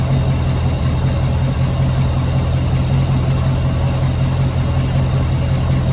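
A fuel pump runs steadily, drawing fuel out of the tank of a Chevy stepside truck running on biodiesel, giving a continuous loud mechanical hum and drone with no breaks or speech.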